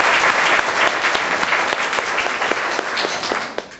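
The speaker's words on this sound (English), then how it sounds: "Let's give them both a round of applause." Audience applause at a congressional debate in Arkansas, dense crowd clapping with scattered sharp individual claps, loud and sustained before tapering slightly toward the end.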